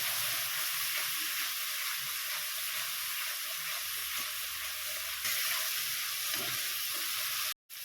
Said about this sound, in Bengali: ফ্লেমটাকে হাই করে দিয়েছি যে প্লেটটা ছিল সেটাকে ভালো করে ধুয়ে এইভাবে অল্প জল দিয়ে ভালো করে এটাকে কষিয়ে নেব